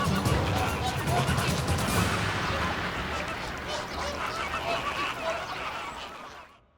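A flock of flamingos takes off together, a dense wash of wingbeats, splashing and scattered honking calls that starts loud and gradually fades into the distance.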